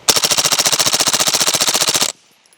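A Springfield Armory Kuna with a Nexus Evo lower fires one fast, loud, unbroken burst of about two seconds in super safe mode. The shots are evenly spaced and rapid, then the burst stops abruptly into near silence.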